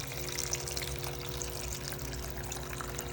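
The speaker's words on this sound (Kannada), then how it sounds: "ಆಮೇಲೆ ಇಟ್ಟು ನೀರು ಹಾಕೊಳ್ಳಿ." Water is poured steadily into a cooking pot for drumstick-leaf sambar, making a continuous, fairly loud splash and gurgle with no break, set over a low steady hum.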